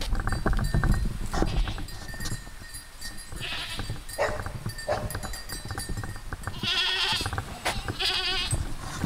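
Goats bleating repeatedly at close range while being walked alongside a dog, with loud cries rising over a busy, rustling outdoor background.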